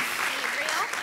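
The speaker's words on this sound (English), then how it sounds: "Round of applause for my helpers." An audience applauds volunteer helpers at a children's science demonstration, a steady wash of clapping close by with voices mixed in.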